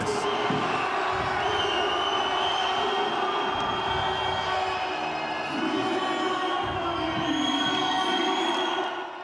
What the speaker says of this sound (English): the fans in the audience go bananas